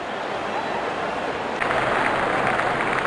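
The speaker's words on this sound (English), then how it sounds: "Openers walking in and the crowd cheering in anticipation." A cricket crowd at a UAE versus USA ICC Men's Cricket World Cup League 2 match cheering as the openers walk out, steady stadium crowd noise that swells louder halfway through.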